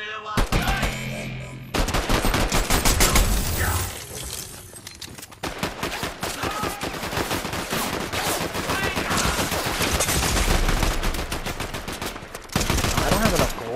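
Dense automatic gunfire from a Fortnite squads match rattles almost nonstop in rapid bursts, loud and close, with brief gaps and a few heavier single shots.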